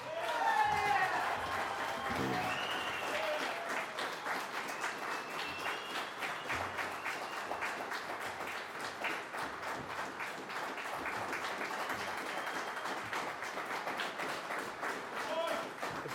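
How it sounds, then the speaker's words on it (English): Sustained applause from a town debate audience vouching for a supervisor candidate, dense steady clapping lasting the whole stretch with a voice briefly heard near the start. "I would just ask you, by a round of applause, to say who would vouch for Mike Maroney's character"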